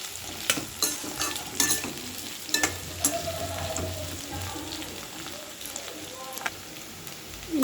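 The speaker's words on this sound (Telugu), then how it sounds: "ఈ గోల్డెన్ బ్రౌన్ కలర్లో వేగాలి చక్కగా." Ten half-crushed garlic cloves fry in hot oil for a spiny gourd stir-fry, a busy close sizzle with crisp crackles and sharp pops, easing to a gentler bubbling as they brown.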